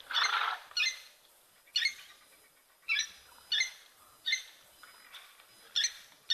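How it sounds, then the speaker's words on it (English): An unidentified bird calls repeatedly at an African waterhole, short bright chirping bursts spaced about a second apart, moderately distant against a quiet background. "I've got no idea what that bird is"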